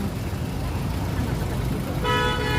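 A vehicle horn blares loudly in heavy city traffic, coming in near the end over a constant rumble of idling engines, with voices nearby.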